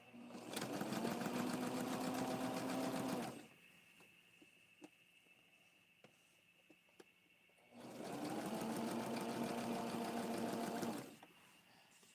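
A sewing machine stitches a zigzag seam around the edges of a doll dress in two loud, steady bursts of about three seconds each, with a quiet pause between them.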